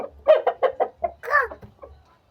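A human voice, likely a child's, imitates a rooster crowing in a short run of clucking syllables rising to a drawn-out crow, close and fairly loud.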